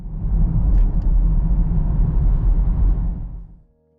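Car accelerating on a road, a steady loud low engine and road rumble heard from inside, holding level for several seconds before fading quickly to near silence.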